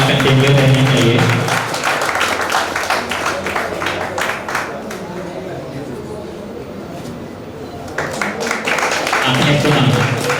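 Sustained applause fills a Teachers' Day honour ceremony hall, a dense roll of clapping that continues for several seconds, with a loud voice speaking over it at the start and again near the end.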